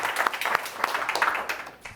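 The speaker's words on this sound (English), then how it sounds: "please give a round of applause for Kelly Fay" Scattered, fairly quiet applause from a small audience welcoming a speaker at an in-person awareness event, with a few distinct claps standing out over a thin patter.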